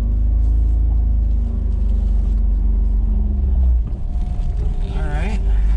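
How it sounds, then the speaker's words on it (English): A small Honda Acty or Suzuki Wagon R with a manual gearbox idles with a deep, close engine rumble, then pulls away in first gear with a rougher rise in revs and road noise, while a driver talks. "let's start this drive. Put it in first, e-brake down."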